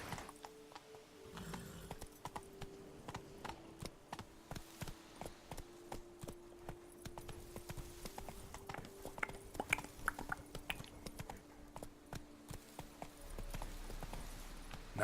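Horse hooves clip-clopping in The Witcher 3 video game, a steady run of rhythmic hoofbeats through the whole stretch, fairly close over a low ambient background.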